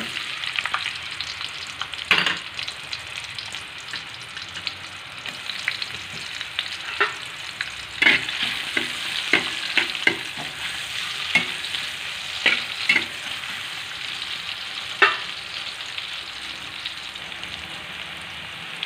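Onion sautés in a hot pan, giving a constant crackling sizzle that carries on throughout, broken by repeated sharp scrapes and clacks of a spatula stirring against the pan.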